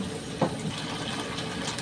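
Water pours into a bean curd sauce mixture of vinegar and other ingredients, a steady splashing gush with one brief louder splash near the start.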